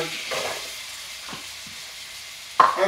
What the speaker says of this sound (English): Now we're going to throw more onions in here.